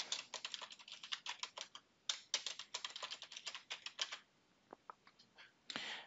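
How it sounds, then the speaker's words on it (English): Typing on a computer keyboard, a quick close run of crisp key clicks in uneven bursts with short pauses between them. "So type your username. And then you're gonna type a password."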